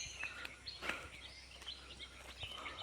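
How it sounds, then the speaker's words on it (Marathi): Faint, distant bird chirps and short morning calls scattered over a quiet outdoor countryside background in Konkan, a few sharper tweets standing out. "सकाळची वेळ आहे त्याच्यामध्ये पक्ष्यांचा आवाज बघा कसा भारी येतो आहे"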